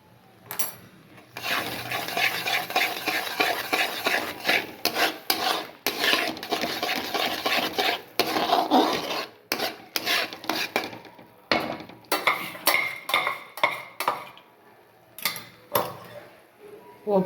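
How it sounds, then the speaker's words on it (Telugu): A spoon stirs and scrapes fried spice tempering, with cumin powder, chili powder, turmeric and fenugreek powder, into tomato pickle in a pan: a run of close, raspy scraping strokes in irregular bursts, with short pauses near the end. "పోపు కలిపి వేపుకున్నాం కదండి"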